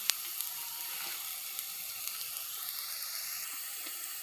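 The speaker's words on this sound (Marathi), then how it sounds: "मी याला छान असं परतून घेते. 1 मिनिटपर्यंत मी याला परतून घेईल." Chopped onion sautéing in a pan for Maggi noodles, a steady soft sizzle with a few light clicks of stirring, heard alone at close range.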